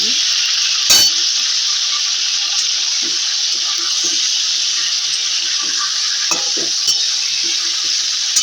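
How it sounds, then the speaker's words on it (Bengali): Chicken pieces sizzle steadily in hot oil in a pan while being stirred for a thin chicken curry, with a few louder scrapes and clatters of the spoon over the constant frying hiss. "মাংসটা একটুখানি হালকা করে নাড়বো।"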